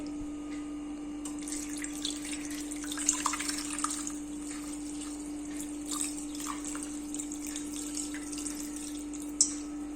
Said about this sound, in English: Now pour some water.